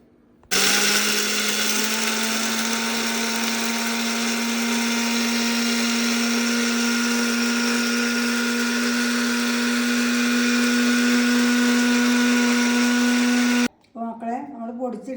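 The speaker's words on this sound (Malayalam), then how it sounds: "ഇനി നമുക്കിത് പൊടിച്ചെടുക്കാം" Mixer grinder at full speed pulverising dried ingredients into powder, a loud steady high whine droning for over ten seconds before cutting off abruptly, followed by a brief burst of speech.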